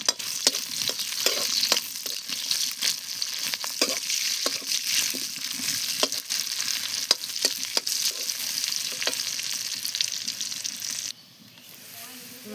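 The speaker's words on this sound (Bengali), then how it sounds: "পেঁয়াজটি দিয়ে দেই। আমার কড়াই গরম হয়েছে, দিয়ে দিলাম আর কি।" Chopped onions hit a hot wok for a taro and dry fish curry, giving a steady, close sizzle broken by regular scraping stirs. A voice speaks over the frying, and the sizzle suddenly drops away near the end.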